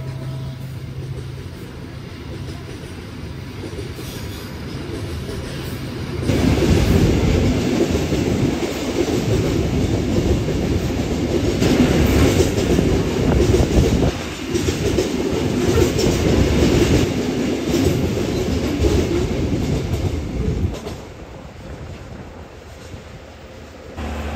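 Rajabasa passenger train hauled by a CC201 locomotive running on rails, a steady loud rumble and clatter of wheels that swells after the first few seconds and continues throughout.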